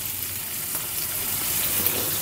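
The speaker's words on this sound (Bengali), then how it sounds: "মাছ ভাজার তেলেই দিয়ে দিচ্ছি পেঁয়াজ রসুন কাঁচামরিচ।" Onion, garlic and green chili frying in oil left over from frying fish, a steady broadband sizzle that holds evenly and close throughout, with no talking.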